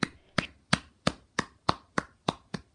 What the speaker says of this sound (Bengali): মহান্ত হাততালি দিলেন